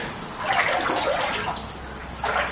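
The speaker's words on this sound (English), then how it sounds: "This is water. Walking in the water." Feet sloshing through floodwater and mud inside a flooded market building in Boiceville, a continuous close splashing and swishing that swells with each stride, with no talking.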